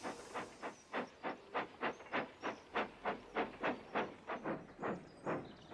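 A steam tram engine named Toby chuffs in a steady, even rhythm of about eighteen hissing puffs, clear and close, with nothing else heard.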